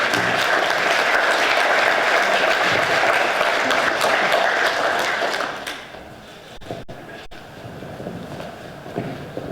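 An assembly audience honoring veterans breaks into sustained, dense applause that fills the room for several seconds, then thins out into scattered claps and shuffling.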